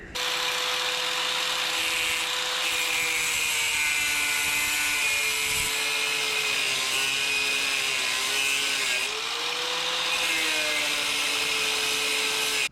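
A drill with a spot weld removal bit drills out rivets on a Ford F250, giving a continuous, loud, close whine that wavers slightly in pitch throughout.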